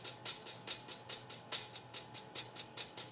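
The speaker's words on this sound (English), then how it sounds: "where I would layer a live hi-hat and a programmed hi-hat" A live hi-hat layered with a programmed hi-hat in a song, sounding together as a steady, slightly uneven chugging run of bright, hissy ticks, close and alone.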